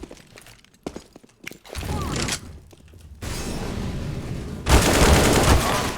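Video game gunfire and a flashbang grenade burst in sharp, loud bangs and crackling blasts, with a brief lull before a final bright, harsh explosion near the end.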